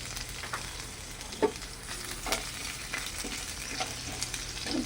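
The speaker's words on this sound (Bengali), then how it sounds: "ফোড়নটা ভাজা হয়ে গেছে" Black cumin and a green chili spit and crackle in hot oil in a pan, a steady close sizzle with a few sharp pops, no talking.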